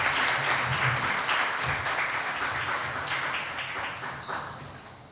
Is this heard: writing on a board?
no